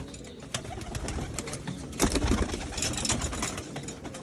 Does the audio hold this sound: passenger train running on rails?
no